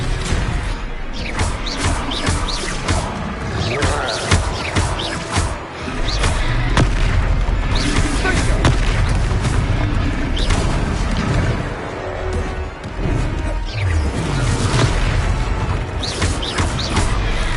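Confringo fire-blast spell in the Hogwarts Legacy video game, heard as repeated booming explosive hits and whooshes amid dense battle effects and music, loud and continuous throughout.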